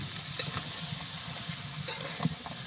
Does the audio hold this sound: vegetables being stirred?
yes